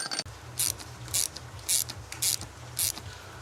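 Close ratchet clicking in five evenly spaced bursts while bolts are tightened on a Peugeot 206 S16 during engine reassembly, with a low hum steady in the background.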